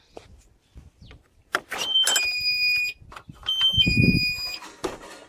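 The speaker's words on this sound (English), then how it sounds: "the sound you heard was our little door alarm and security" An RV's electronic door alarm beeping in two bursts of high, steady tones, close and fairly loud, between bumps and rustling movement.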